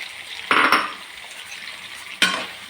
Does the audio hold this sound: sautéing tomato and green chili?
yes